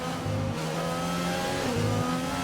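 Race car engine in a sim racing game, revving hard in steady bursts with audible gear changes between tones, loud and close with no voices.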